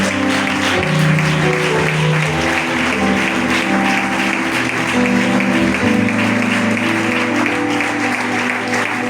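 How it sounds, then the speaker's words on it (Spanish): Applause during a church service sounds over sustained music with held tones, the clapping a dense, even texture that runs throughout at a strong level. "Dale un aplauso al Rey."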